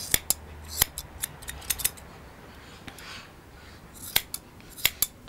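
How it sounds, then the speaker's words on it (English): Scissors snip through a dog's coat during grooming, trimming along the back, in a string of sharp, close metallic clicks, irregular and quick, with short pauses between bursts. "by cutting away the hair on the back. For that, I put the scissors slightly down"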